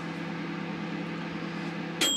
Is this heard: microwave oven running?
yes